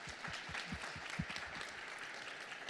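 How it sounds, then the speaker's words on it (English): An audience at a local hiring summit in Ottawa gives a quick round of applause, with scattered, fairly faint clapping that carries on steadily throughout. "So just a quick round of applause for Chantal."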